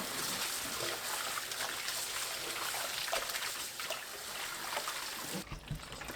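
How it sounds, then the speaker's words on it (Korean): Running cold water trickles and splashes steadily over blanched bok choy during a rinse. The sound is continuous and close, and it cuts off near the end. "찬물에 2번 헹굽니다."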